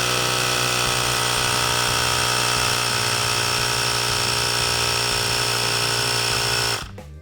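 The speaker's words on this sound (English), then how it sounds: "Grab your tire pump and attach the nozzle. And inflate to 36 psi." An electric tire pump runs steadily while inflating a tire of an SX500 Dirt Rocket McGrath dirt bike to 36 psi, a loud, even motor whine with a buzzing tone that cuts off abruptly near the end.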